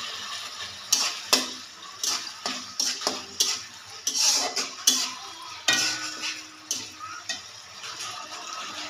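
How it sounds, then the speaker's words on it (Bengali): Tomatoes are stir-fried in a pan for a carp and potato curry, a soft sizzle under repeated sharp clinks and scrapes of a spatula against the metal, irregular and close, with no talking. "টমেটো দিয়ে ভালো করে কষিয়ে নিব।"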